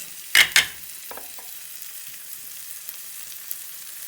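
Green onions sizzle softly in hot olive oil, a steady low hiss, with a couple of sharp clatters from stirring near the start.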